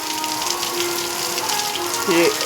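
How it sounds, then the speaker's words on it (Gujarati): Continuous rain patters steadily, a soft even hiss of drops falling on surfaces, with a faint tonal hum underneath. "તે અડધી કલાક જેવો વરસાદ પડી રહ્યો છે"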